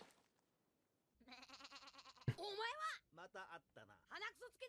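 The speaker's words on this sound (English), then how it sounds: "Looks like a Sengoku's goat." A goat bleats in the One Piece movie Baron Omatsuri and the Secret Island. A faint, wavering cry is heard, followed by a sharp hit and more quivering bleats and squeals, at low volume.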